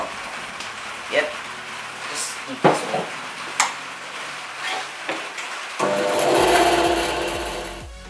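A single wooden plank is cut by hand with scattered rasping strokes, then a denser stretch of scraping near the end, under intermittent talk.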